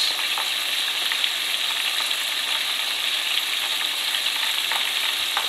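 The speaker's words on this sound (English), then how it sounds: "That's the sound of the chicken frying in the grease." Steady, loud sizzling of buttermilk-marinated chicken frying in hot grease, a continuous crackling hiss with faint pops throughout.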